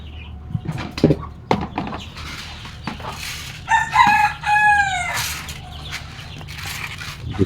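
Free-range country chickens cluck and chatter close by while a rooster crows clearly midway through, with scattered bird calls and yard noise throughout and no talking.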